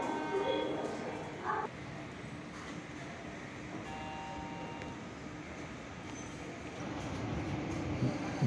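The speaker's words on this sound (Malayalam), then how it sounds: "ദിബ്രുഗ്രാഹിൽ നിന്ന് കന്യാകുമാരി വരെ പോകുന്ന വിവേക് എക്സ്പ്രസ് രണ്ടാമത്തെ പ്ലാറ്റ്ഫോമിലൂടെ കടന്നു വരുന്നതാണ് കാണുന്നത്" The Vivek Express, running from Dibrugarh to Kanyakumari, rolls through the second platform at Kottayam railway station, a steady rumble of wheels and carriages with faint squeals, under someone speaking.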